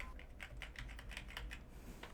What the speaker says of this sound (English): Just type it in. Typing.